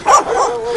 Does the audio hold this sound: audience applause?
no